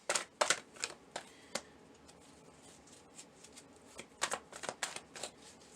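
Tarot cards are shuffled and drawn, giving quick riffling bursts at the start and again near the end, separated by quieter handling; close and fairly soft, with no talking.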